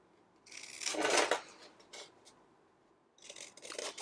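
Scissors snip through the corners of a cardboard card box, a few close crisp cuts and rasping scrapes with short pauses between them, no voices.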